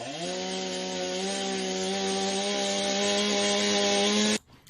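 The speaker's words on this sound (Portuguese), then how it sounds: "Vamos então avançar agora para a motosserra distante." A distant chainsaw from a sound library runs at a steady, sustained drone with stacked harmonic tones for about four seconds, then cuts off abruptly near the end.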